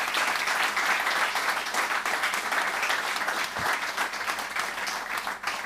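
Audience at a live Mercedes-Benz Reiterforum event clapping: dense, sustained applause from a crowd, loud and even throughout, with no speech over it.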